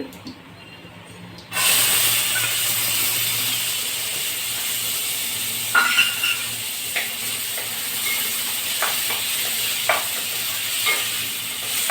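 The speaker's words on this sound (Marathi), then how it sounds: "तेल तापले आपलं चांगलं जिरी मोहरी टाकूया आणि चणाडाळ टाकायची थोडी" Cumin and mustard seeds crackle and sizzle in hot oil for a ridge gourd dish, a steady loud frying hiss starting abruptly after a quiet moment, with occasional sharper pops from the seeds.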